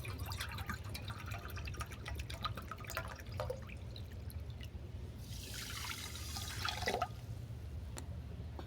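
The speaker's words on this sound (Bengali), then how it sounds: "আর দিয়ে দিলাম 1 বাটি জল" Water poured from a bowl into a kadai to make sugar syrup, a soft liquid splash and trickle rising around the middle and fading, with faint dripping before and after, no talking.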